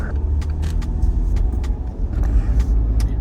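A rental car drives along with a steady low road rumble and engine drone, punctuated by a few brief clicks and rattles inside the cabin.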